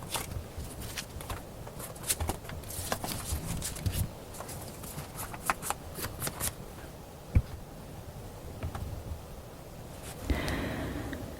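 Tarot cards shuffled by hand, quick papery riffles and flicks in irregular bursts, close and fairly soft, with short pauses and no voices.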